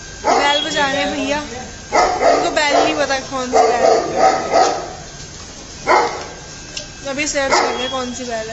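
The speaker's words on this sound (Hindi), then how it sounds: "अभी हम यहाँ कुत्ता भौंक रहा है" A dog barks several times in the background during an outdoor family visit, with short separate barks between stretches of close conversation from people nearby.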